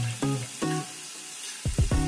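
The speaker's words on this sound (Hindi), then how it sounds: "फ्राई हो चुका है और अब हम इसमें डालेंगे turmeric powder, red chilli powder, salt और शुगर।" Leftover chapati pieces fry in a pan with turmeric, red chili powder, salt and sugar added, making a steady close sizzle broken by a few brief scraping bursts, with no voices.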